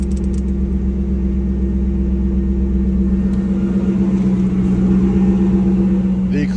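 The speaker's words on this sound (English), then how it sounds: "I'm going to turn on the air condition, and we're going to see what the compressor is or is not doing." A car engine idles with the air-conditioning compressor switched on, giving a loud, steady low rumble and hum that stays even throughout, heard up close.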